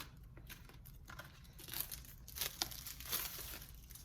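Sheets of contact paper crinkle and crackle as they are unrolled and handled, close and fairly quiet, with irregular bursts of rustling and light tearing-like crackles and no talking.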